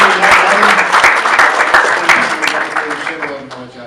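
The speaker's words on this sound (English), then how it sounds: "Can everyone give a round of applause for our" A crowd at an event applauds loudly and steadily, dense clapping that fades slightly toward the end while a voice speaks beneath it.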